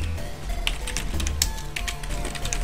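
Typing on a computer keyboard during a game of ARK: Survival Evolved: irregular sharp clicks and taps over a low steady hum, moderately close, with no speech.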